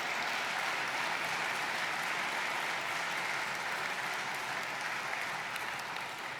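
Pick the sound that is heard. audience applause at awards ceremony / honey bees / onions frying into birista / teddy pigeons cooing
audience applause at awards ceremony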